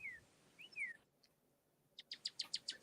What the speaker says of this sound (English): birds are just starting to come out around here.